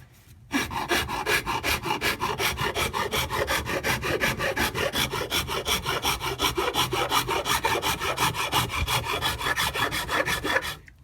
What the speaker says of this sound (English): the Shinto rasp